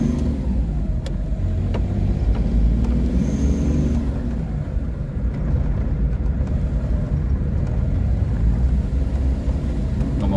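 A car with a broken clutch cable pulls away in first gear, its engine giving a steady, close, loud rumble that rises slightly as it accelerates.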